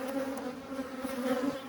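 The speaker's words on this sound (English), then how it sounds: "This is by no means a small and insignificant number of bees." Honeybees from a colony undergoing queen supersedure hum steadily at the hive. The buzz is soft and close, with overlapping wingbeats.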